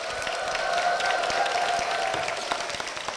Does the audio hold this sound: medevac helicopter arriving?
no